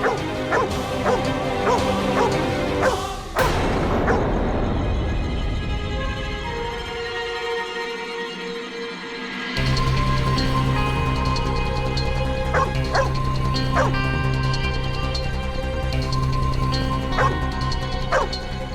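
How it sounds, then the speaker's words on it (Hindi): A dog barks and yips repeatedly in bursts, with whimpering cries between, loud and close; a crash and a brief quiet gap break the sequence before the barking resumes over background music. "ये कुत्ता इतना ज्यादा क्यों भौंक रहा है?"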